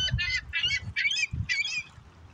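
Seagulls squawk on the Hudson River, four or five harsh repeated calls in quick succession, loud and fairly close, with no talking over them.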